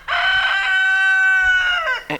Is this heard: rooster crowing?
yes